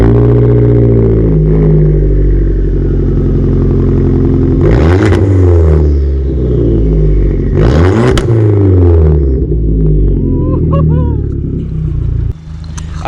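A 2013 Mopar Dodge Dart engine fires up and revs loudly through the exhaust, with two sharp rises in pitch and popping near the end, close to the tailpipe.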